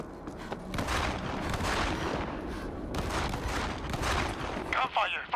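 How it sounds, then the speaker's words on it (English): Sustained gunfire from a bus in the zombie shooter World War Z, dense bursts of shots and booms running nearly continuously and loud, with voices over the fire. "Gunfire from the bus."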